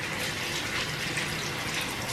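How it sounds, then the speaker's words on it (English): Running tap water splashing steadily for rinsing hands during a skincare routine, a constant broadband rush heard alone at moderate level. "rinse your hand in the water"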